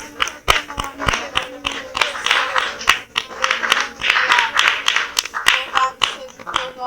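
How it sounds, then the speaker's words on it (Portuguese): A church congregation claps along through a worship service, a dense, rhythmic patter of many hands with sharp individual claps standing out, fairly close and continuous throughout. "Aleluia, aplauda o Senhor."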